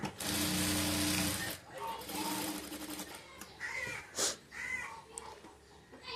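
A sewing machine runs in a steady fast buzz while stitching a blouse sleeve, loud for about the first three seconds and then in shorter bursts, with faint voices or caws appearing in the pauses.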